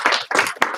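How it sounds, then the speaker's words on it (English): An audience in a karate class gives two quick claps on cue, in unison and close by, each clap a sharp burst with a short gap between. "Give her 1 clap, 2 claps."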